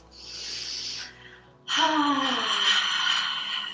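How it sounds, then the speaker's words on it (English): A breathing exercise during a yoga-style session: a long audible breath drawn in, a short pause, then a louder, breathy exhale through the mouth, close and clear. "Starting with inhaling through the nose and exhale through the mouth."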